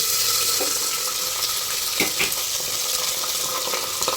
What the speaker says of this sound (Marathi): इकडे आपलं तेल गरम झालं आहे त्याच्यामध्ये आपण सगळे मसाले टाकून देऊया